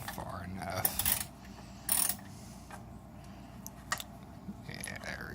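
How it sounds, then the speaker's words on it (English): Metallic ratcheting clicks and small tool clatter while a bolt is backed out on a 2003 Jeep Wrangler TJ during air conditioning drier removal, a few sharp bursts of clicking spaced apart, fairly close and fairly quiet. "backing this bolt all the way out will let it slide down far enough"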